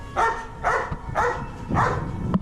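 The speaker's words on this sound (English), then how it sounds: "look at the doggy going cranky" A dog barks repeatedly on a street in Medellín, four loud, close, evenly spaced barks with a short yip at the end, against steady outdoor street background.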